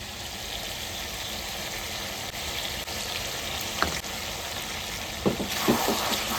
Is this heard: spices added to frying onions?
yes